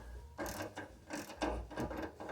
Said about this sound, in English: Just loosening to the point where I can actually go in with my hand and loosen them up.